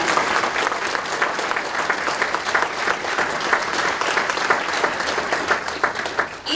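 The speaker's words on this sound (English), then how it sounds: "how about another round of applause for all the great work going on?" A room of attendees at a volunteer recognition breakfast gives a sustained round of applause, dense, lively clapping at steady volume throughout before it begins to fade at the end.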